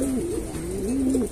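Breeding pigeons kept for inbreeding and sport give steady, close rolling coos that rise and fall continuously throughout, with no talk over them.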